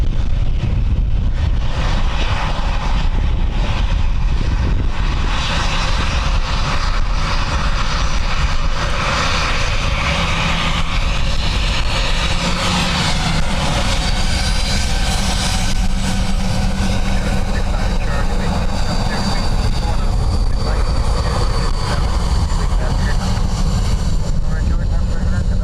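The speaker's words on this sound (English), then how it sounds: "Dreamliner next from Qatar." A Qatar Airways Boeing 787 Dreamliner arriving at Dublin Airport on a blustery day roars continuously with loud jet engine noise and wind buffeting throughout, steady and close, with a voice faintly audible over it.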